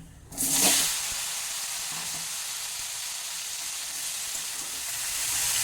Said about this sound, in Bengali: এই ঝিঙেগুলোকে আমি এর মধ্যে দিয়ে দিচ্ছি